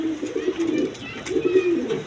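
Satin pigeons coo in two low, throaty bursts, close by, with faint background noise between the calls.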